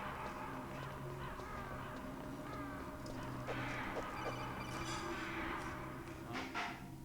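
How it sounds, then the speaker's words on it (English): Ravens cawing in the Metal Gear Solid video game, several harsh croaking calls scattered over a steady low background hum, fairly faint. "More like ravens."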